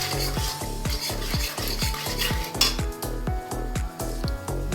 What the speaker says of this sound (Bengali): তেল তো গরম হয়ে গেছে বন্ধুরা, আমি এবার 5 ফোড়ন আর লঙ্কাটা দিলাম।